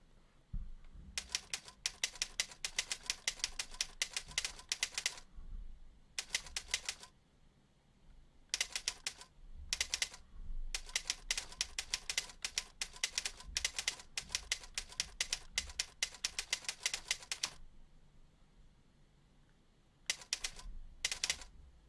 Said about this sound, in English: it's this keyboard, Curl, I could put different sounds on it when I'm typing on it, and that's the sound that I pick a typewriter